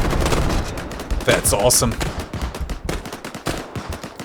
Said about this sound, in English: The 30mm cannon is such a huge asset against infantry.